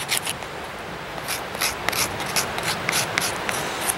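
A fire steel scrapes repeatedly in short, rasping strokes, close and moderately loud, with an uneven rhythm.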